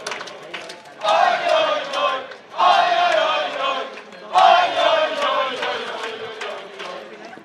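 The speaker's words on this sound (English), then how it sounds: "I think they're cheering for the Finnish ladies." Swedish supporters at a youth bowling championship team final in an indoor hall cheer and shout in three loud crowd surges, each swelling and then easing off, with no clear speech.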